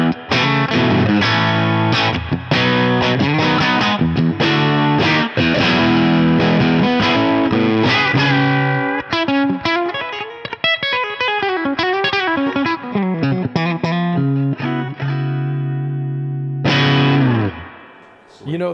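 Fender Telecaster electric guitar played through distortion and chorus effects, a loud continuous run of chords and bending single notes that trails off near the end before a final struck chord.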